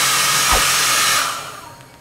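A hair dryer blows steadily at close range to heat a plastic part of a Whirlpool AWO/D7116 washing machine with a glued drum during a bearing replacement, a loud, even whoosh that fades near the end.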